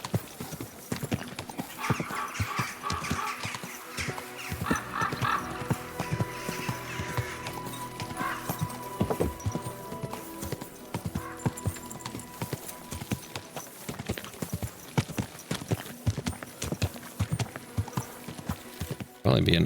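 A horse is ridden in the video game Kingdom Come: Deliverance 2, with steady clip-clop hoofbeats throughout and an occasional whinny, heard under a voice.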